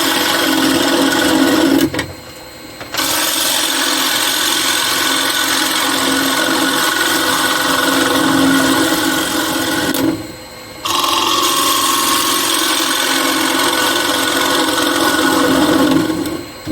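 A wooden bowl being hollowed out on a wood lathe, the cutting making a steady, close, loud whirring scrape that drops off briefly twice as the tool lifts from the wood.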